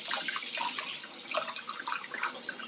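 Tap water runs steadily over hands being rinsed in a kitchen sink, a soft continuous splashing hiss with small irregular spatters, moderately close and with no talking.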